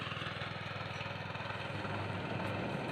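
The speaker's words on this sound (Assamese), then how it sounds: "ট্ৰেক্টৰে বোৱাই আছে" A tractor engine ploughing a field drones with a fast, even throb, running continuously close by without a break.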